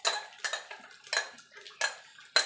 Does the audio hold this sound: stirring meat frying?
yes